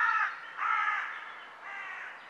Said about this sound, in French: On entend même les corbeaux.